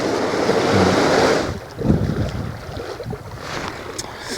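A boat passes at sea off Taean, its engine wash and rush of waves mixing with strong wind buffeting the microphone, swelling then easing as it goes by.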